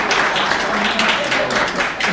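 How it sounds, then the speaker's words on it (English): An audience gives another round of applause for Jerome at a youth global trades summit, steady dense clapping heard close and loud throughout, with a few scattered individual claps standing out. "let's give Jerome another round of applause"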